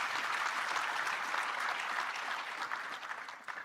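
Audience applause fills a hall at the Limpopo Investment Conference, a dense, steady patter of many hands clapping at moderate distance that holds for several seconds and thins slightly toward the end, with no talk over it.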